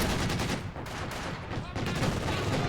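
Rapid bursts of MG42 machine gun fire in the real-time strategy game Company of Heroes, crackling in dense overlapping volleys over a short stretch, with a commentator's voice faintly underneath.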